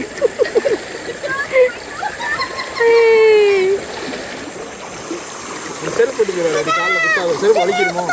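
A child swimming and splashing in water during a family trip in Brunei, irregular splashes and watery churning heard under loud chatter and voices throughout.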